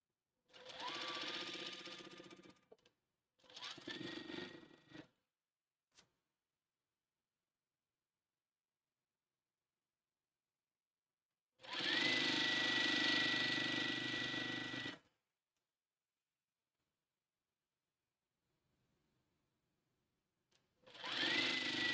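A domestic sewing machine stitches jelly roll strips for a quilt in three loud, whirring runs separated by stretches of silence, close by and with no voices.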